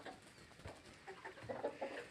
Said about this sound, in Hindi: आजा मुर्गी आ तुम भी खा ले, पता नहीं मुर्गा है मुर्गी है